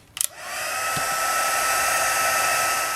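Heat tool blowing hot air to melt gold embossing powder on a stamped greeting card, a steady loud fan whir starting after a couple of clicks and running alone to the end.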